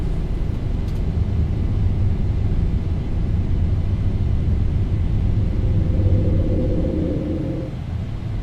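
Boeing 737-800 taking off in the X-Plane 12 flight simulator, a steady heavy engine roar and low rumble that holds loud throughout, with a faint whine rising briefly near the end.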